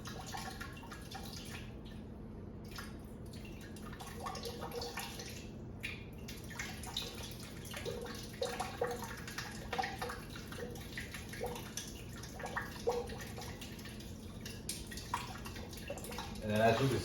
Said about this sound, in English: let the water drain out of it.